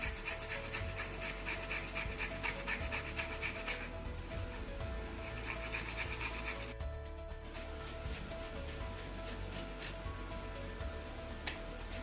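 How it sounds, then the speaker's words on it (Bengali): Raw giant taro (maan kochu) being grated by hand, a steady rubbing rasp repeating in quick strokes close by, with brief pauses between bursts of grating. "এই যে আমার সব মান বাটা হয়ে গেছে, ঘষা হয়ে গেছে"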